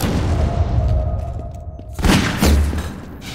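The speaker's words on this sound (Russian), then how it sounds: "В полете пытался стрельнуть револьвером." Revolver shots ring out in a Half-Life 2 Deathmatch match, loud sharp cracks amid booming game noise and impacts, with one burst near the middle and a heavier blast cluster after it.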